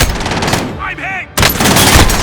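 Bursts of automatic gunfire in Call of Duty Warzone on Rebirth Island, loud and close, with a brief quieter gap broken by a voice before the shooting resumes.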